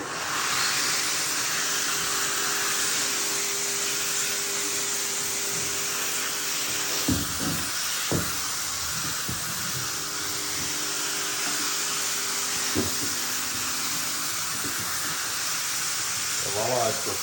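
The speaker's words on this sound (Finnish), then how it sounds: "Päästään höyryttämään." Steady broadband hiss from an Ultra 45 combination steam cleaner steaming surfaces in an apartment, running continuously and fairly loud throughout, with a few brief clunks and a voice talking over it.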